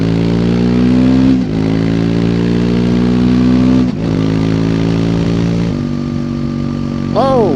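A 2024 Triumph Speed 400 motorcycle accelerates hard on the road, its engine pitch climbing in steady pulls with brief dips at gear changes, loud and close, with a rider's voice faintly over it near the end.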